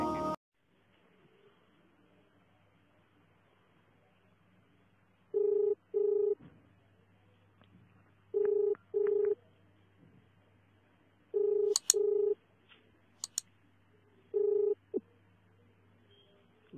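A phone beeps out a number as telephone dialing tones, one after another in short separated bursts with pauses between them, over a quiet background.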